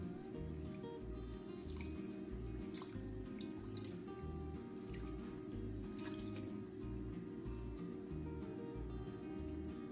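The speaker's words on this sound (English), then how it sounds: "Repeat this rinsing process one more time to clean the rice thoroughly" Rice grains are rinsed in a bowl of water in a home kitchen, with steady squishing, dripping and trickling water sounds over a constant low hum.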